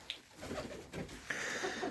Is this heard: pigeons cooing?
yes